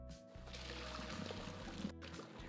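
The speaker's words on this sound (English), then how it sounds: "Now we can strain this pasta out." Cooked orecchiette pasta and its water pour into a strainer, a soft, close, steady trickling splash lasting a couple of seconds, quiet and without talking.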